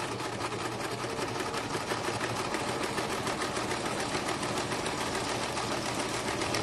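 A sewing machine runs a border stitch across the top of a file folder for a junk journal, a continuous close mechanical whir with a fast, even needle rhythm and no pauses.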